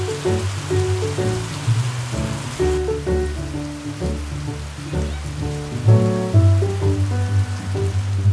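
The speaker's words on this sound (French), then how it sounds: "il y a de la pluie qui s'est mise à tomber." Rain falls steadily outdoors, a dense close patter on surfaces that swells and eases across several seconds, with no voices.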